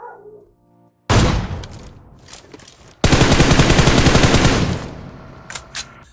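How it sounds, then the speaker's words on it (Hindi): An M4 rifle fires in PUBG Mobile, one short loud burst followed by a longer sustained spray of rapid automatic fire, loud and close, then a few faint trailing sounds. "तो मैंने इसको M4 का स्प्रे मारा यहाँ पर बंदे को डराने के लिए"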